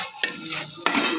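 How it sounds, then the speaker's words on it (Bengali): A spoon scrapes and clinks twice against a pan while stirring chhola dal masala, the spiced paste for a chana dal dish, with soft sizzling between the close, sharp knocks. "এটাকে আমি নেড়ে দেবো।"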